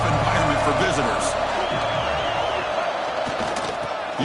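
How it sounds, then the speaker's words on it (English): Stadium crowd at an NCAA college football game roars steadily, a dense, loud wash of cheering and noise filling the whole stretch, with a commentator talking over it. "Listen to the crowd energy here in the early going."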